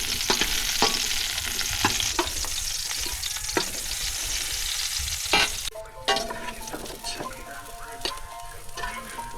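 Cooking oil sizzles and crackles steadily in a pan while food fries, with sharp clicks and taps of stirring scattered throughout, close and continuous, with no talking.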